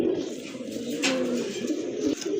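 Steady low cooing from pigeons, including Kaldam pigeons, fills the clip, a soft continuous throaty murmur close by with a brief rustle midway.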